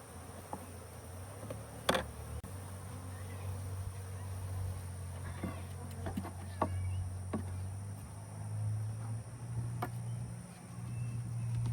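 A package of Southern Italian honey bees hums with a low, steady buzz, close and continuous, broken by a few sharp taps and knocks against the hive.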